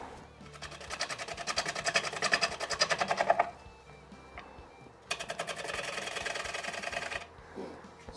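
A wood lathe cuts into a silver maple bowl, giving two sustained rapid, chattering scraping passes up close separated by a brief pause.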